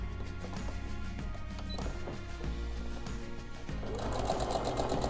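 A sewing machine stitches quilt pieces in quick, close bursts of rapid needle clatter, pausing briefly between runs before a louder, busier whirr at the end.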